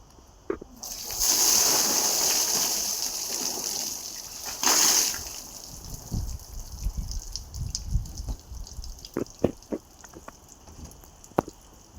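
Collected rainwater is tipped out of an umbrella in a rain-soaked farm field, a loud splashing pour lasting a few seconds that returns in a second gush, then gives way to scattered drips and taps.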